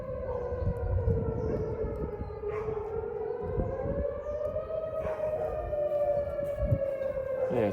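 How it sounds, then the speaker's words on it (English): A civil defense siren wails steadily from a distance in Matheson, Mississippi during tornado weather, its rising and falling tone drawn out over several seconds against faint background noise. "Yeah, sounded the sirens."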